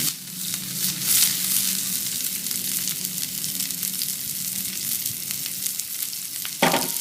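Wild mushrooms fry in a pan with a steady, close, broadband sizzle for the whole stretch, broken by occasional stirring scrapes and one sharp clink near the end. No one speaks.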